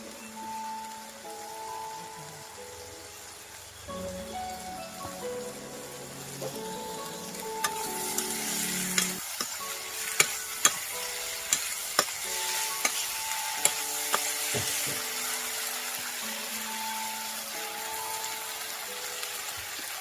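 Sliced onions dropped into hot oil in a home kitchen pan, frying with a steady broadband sizzle that swells partway through, punctuated by sharp clinks and scrapes of a spatula stirring.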